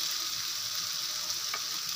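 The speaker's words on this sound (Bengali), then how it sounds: "দেখো মাংসটা কিন্তু খুব ভালোভাবে কষা হয়ে গেছে আমার।" Chicken pieces fry in a pan for khichuri, producing a continuous, even sizzle up close with a faint scrape partway through and no talking.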